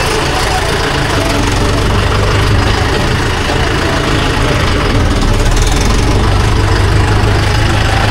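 A Bhoomiputra 475 tractor engine idles steadily and loudly up close, a continuous low rumble with a faint knocking texture and voices in the background.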